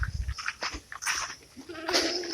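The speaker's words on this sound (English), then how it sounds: "The goats are waiting for me." Goats on a small farm bleat in several short, nasal calls, close and fairly loud, interspersed with brief rustles and animal noises in the morning air.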